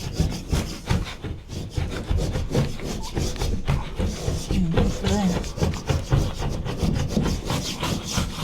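Glued pieces of wood being pried and stripped off during a renovation in West Wales, with steady scraping, rubbing and cracking that runs continuously, loud and close, with a bit of background voice.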